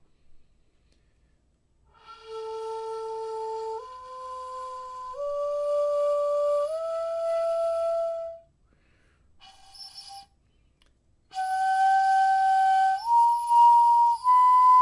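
A breathy hitoyogiri bamboo flute plays a few sustained notes stepping upward, each held a second or two, with a short pause before a final rising phrase.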